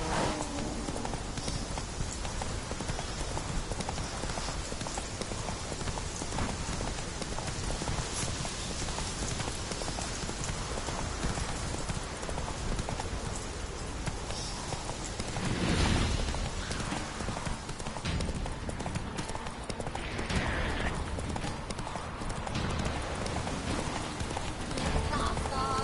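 Roach the horse gallops in The Witcher 3 with rapid, continuous hoofbeats under steady ambient noise, and a voice speaks over them at times.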